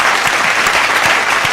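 An audience bursts into dense, loud applause at a Mother's Day celebration, steady rapid clapping filling the whole moment.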